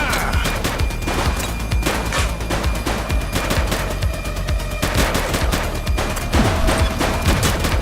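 Rapid bursts of close, loud gunfire crackle nearly nonstop during a police shootout in the crime game The Precinct, shots overlapping with impacts and a few faint shouted voices.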